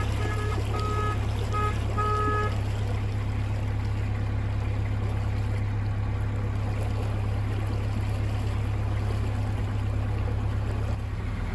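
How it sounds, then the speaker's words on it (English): A narrowboat engine chugs at just above tick over, around 1200 RPM, a steady low rumble throughout with water noise alongside and no talk. "we're just chugging along, just over tick over, about 1200 RPM"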